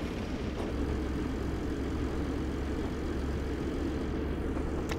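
A 1950s–60s diesel train engine drives along the Weardale and Teesdale line in Train Simulator 2021, a steady low rumbling drone that holds constant, heard alone without talk.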